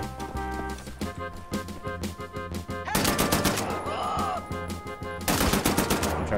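Rapid automatic assault rifle fire in Wolfenstein: The New Order, loud close bursts of rattling shots over a steady background, with heavier, denser volleys and impact crashes in the second half.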